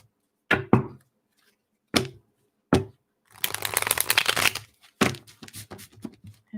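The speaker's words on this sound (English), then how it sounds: "I do a couple more shuffles." Tarot cards being shuffled by hand: several short sharp snaps, then a longer riffling burst, followed by a few more quick shuffles close up.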